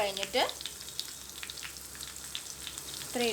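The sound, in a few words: stirring fish curry masala on low flame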